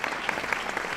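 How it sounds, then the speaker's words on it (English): A brief round of applause, with many hands clapping in a dense, steady patter that is fairly loud and has no voices over it. "he deserves a round of applause for that"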